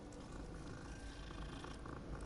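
Steady, close cat purring from the Hogwarts Legacy video game, a continuous low rumble running without break throughout, with no talk over it.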